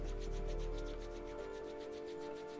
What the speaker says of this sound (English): Once again, rub your palms.